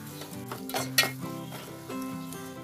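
Jaggery melts in a pot on a stove while making bellam boorelu: soft sizzling and stirring with a few utensil clinks, including one sharper clank, under a steady tonal background.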